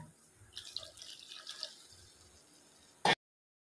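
Water is poured into a cooking pot with a soft trickle and splashing, quiet and irregular, ending in one short, sharp clatter.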